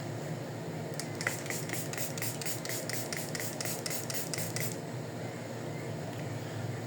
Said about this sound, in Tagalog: magsa-setting spray na tayo